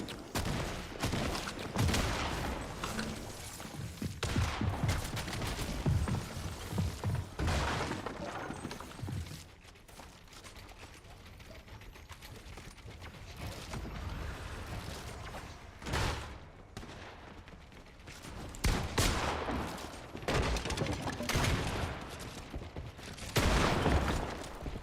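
Shotgun blasts in a video game, a dense run of loud booming shots with bursts of rapid fire and short pauses between volleys, close and continuous throughout.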